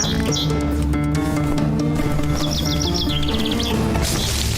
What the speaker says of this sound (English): Bird in our treehouse.